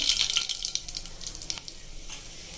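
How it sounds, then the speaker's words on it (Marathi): Cumin and mustard seeds crackle and sizzle in hot oil, with quick bright pops and a soft hiss close up. "इथं आपलं तेल तपलं त्याच्यामध्ये मी थोडंसं जिरा मोहरी टाकलेली आहे"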